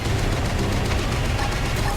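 Sustained gunfire in the video game Xenoblade Chronicles X, a dense continuous barrage of shots with heavy low rumble, loud and steady throughout with no pauses.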